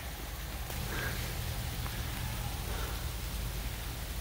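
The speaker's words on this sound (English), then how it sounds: "It's raining pretty hard." Heavy rain falls during a thunderstorm at Jemez hot springs, a steady dense hiss of drops throughout with a few faint knocks and no talk.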